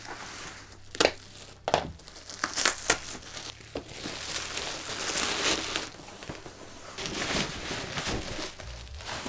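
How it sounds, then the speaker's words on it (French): Parcel packaging around an airsoft replica is torn and unwrapped, close crinkling and crumpling of plastic and cardboard with sharp rips and irregular bursts of handling noise throughout. "on va tout de suite ouvrir le colis"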